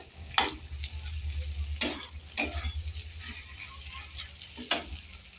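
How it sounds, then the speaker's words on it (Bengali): Dried fish frying in a pan over a lowered gas flame, with a steady low sizzle and several sharp scraping stirs of a spatula at irregular intervals, close and moderately loud, no voices. "এখন এটা গ্যাস কমিয়ে কিছুক্ষণ ভেজে নেব"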